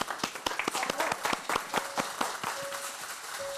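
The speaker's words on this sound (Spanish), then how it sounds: "Un aplauso, por favor." A small audience claps before a singer performs on a TV show, scattered distinct handclaps at first that thin out into lighter, sparser clapping, fairly close and without talk.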